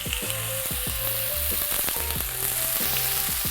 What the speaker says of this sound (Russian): Сковорода. Маслица. И жарим.